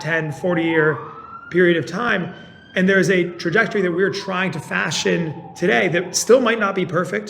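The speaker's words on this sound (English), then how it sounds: "I'm sure everyone can hear the sirens going by" Emergency vehicle sirens wail faintly outside, a long sliding tone running beneath a man's continuous speech at a talk on corporate engagement.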